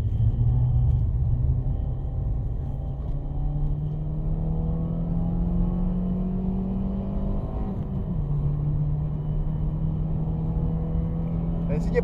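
A Citroën Xsara on the Autodrom Most circuit, heard at full throttle from inside the car, gives a loud, steady engine drone that climbs in pitch, dips briefly at a gear change near the end, then pulls on.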